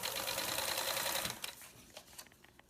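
A sewing machine bastes fabric close to the edge, whirring loudly and steadily for over a second before stopping, then giving a few quiet clicks and taps.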